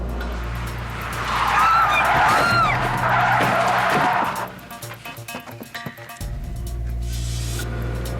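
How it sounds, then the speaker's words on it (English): A car drifting and oversteering on a driving course, engine revving loud and close while tires squeal and skid for several seconds, then a brief lull before the engine rises again. "First, she drifts to her right. Then she oversteers."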